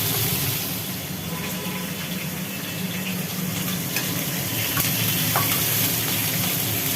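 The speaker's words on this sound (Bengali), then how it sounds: "আর এই কড়ায় মাংসগুলোকে একটু তেলের সাথে ভাজি ভাজি করে নেওয়া হচ্ছে" Chicken pieces fry in hot oil in a wok, giving a steady, dense sizzle that runs evenly throughout at close range, with no talking.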